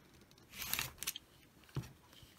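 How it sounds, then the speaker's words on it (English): Scissors make a single cut through quilting fabric, a few quiet close snips and rustles in a soft, otherwise silent room. "I'm putting it straight up and down on my fabric. Then I'm going to cut it one time."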